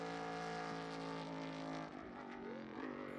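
A NASCAR race car, the number 44, runs a paved hill climb course, its engine a loud sustained drone with strong harmonics that shifts pitch partway through as it changes speed.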